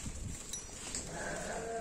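A male Rampuri goat in Hyderabad gives a faint, short bleat amid quiet background noise, with no speech.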